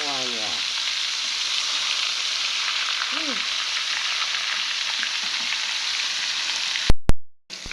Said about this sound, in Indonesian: Goreng semuanya